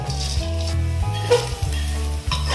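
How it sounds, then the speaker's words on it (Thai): Textured soy protein deep-frying in hot oil until golden and crisp, heard as a loud, steady bubbling sizzle with low rumbling pulses and occasional crackles. "เราจะทอดจนโปรตีนเกษตรเราเหลืองกรอบเลยนะครับ"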